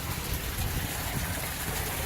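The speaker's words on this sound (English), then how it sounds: "I have now got all 7 beds filled with gravel and with water running into them and water running back to the sump" Water runs steadily into gravel-filled aquaponics grow beds and drains back to a sump, a continuous close trickling and gushing wash with no voices.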